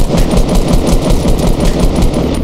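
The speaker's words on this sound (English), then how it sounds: "I don't know why I shot at him" Rapid, sustained automatic gunfire from a Fortnite match, dense and loud, with bursts running continuously and little pause.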